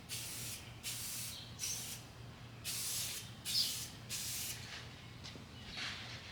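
Clear coat sprayed in light coats over a painted S-curve produces a series of short, sharp hissing spray bursts separated by brief pauses, over a faint steady background hum.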